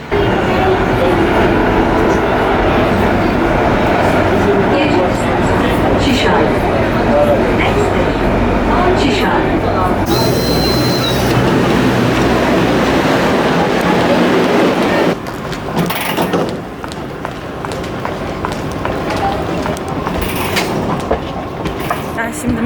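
A metro train rumbles and clatters along the rails, loud and continuous, with a brief high squeal partway through and the noise easing near the end.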